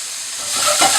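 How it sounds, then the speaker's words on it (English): Onion and carrot hit a fairly hot pan and sweat, making a brief hissing sizzle that swells louder toward the end. "it's a fairly hot pan that I'm putting these into, and just let them sweat for a minute or so"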